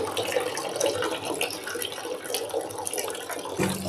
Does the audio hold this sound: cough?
no